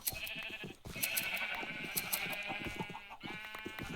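Sheep bleat repeatedly in Minecraft (Java), a busy, slightly synthetic-sounding scene with overlapping cries close by and a steady bed of background noise.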